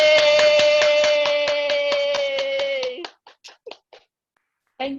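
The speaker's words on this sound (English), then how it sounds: "I welcome all of you to unmute and offer Heather and Freddie a round of applause" A few participants in a virtual chapter meeting clap for Heather and Freddie over their microphones, a steady run of close hand claps under a sustained tone, then scattered individual claps fading out.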